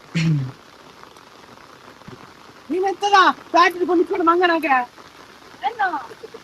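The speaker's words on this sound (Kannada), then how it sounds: "ಧಾರಾಕಾರ ಮಳೆಯಲ್ಲಿ ಕ್ರಿಕೆಟ್ ಪಂದ್ಯಾಟ" Heavy rain hisses steadily in the background while excited voices call out in short bursts during a cricket match.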